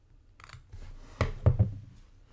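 Scissors cut out a paper word in a few close, crisp snips, with two sharper cuts bunched near the middle of a short, quiet stretch.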